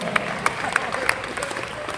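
Comedy club audience clapping steadily after a set, with a few sharper claps and whoops standing out from the dense applause.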